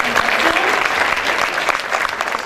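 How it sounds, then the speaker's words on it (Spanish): A room of attendees at a training session for leaders gives a group steady, dense applause that holds for a couple of seconds, with faint voices mixed in. "un aplauso para este grupo"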